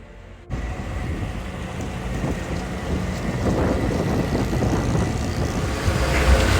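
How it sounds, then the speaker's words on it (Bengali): Motor boat speeding across the lake near Taal volcano in the Philippines, a steady low engine roar mixed with wind buffeting and water rush that builds slightly after a quiet start, loud and close. "এখন একটু স্পিডে চালাচ্ছে বোটটা"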